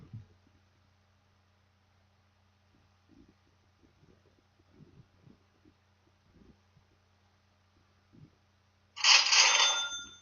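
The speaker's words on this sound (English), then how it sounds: "You hear the cha-ching sound, right? So there's your notification right there." A phone plays a bright, ringing cha-ching sale notification, loud and about a second long, near the end after several quiet seconds of faint background noise.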